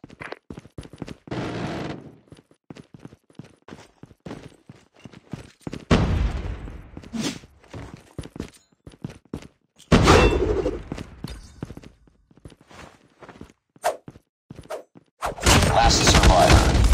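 Gunfire rattles in Call of Duty as a hostile sentry gun opens up, loud bursts and single shots separated by gaps, with heavier sustained volleys toward the end.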